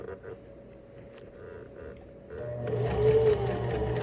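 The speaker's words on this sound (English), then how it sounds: "Just do a little double stitch there." A sewing machine stitching the corner of a fabric face mask with encased elastic, a few quiet stop-start clicks and then a steady close-up motor whir with rapid needle chatter in the last seconds.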